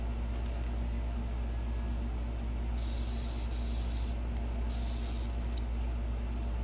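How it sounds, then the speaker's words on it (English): Two short bursts of fine, hissing spray as alcohol is misted onto fabric resin art, set over a constant low background rumble. "Sprayed it with my alcohol."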